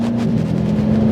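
Engine of an 800HP Mercedes E63 AMG pulling under gentle throttle, a loud, close, steady drone with a strong low tone, heard alone.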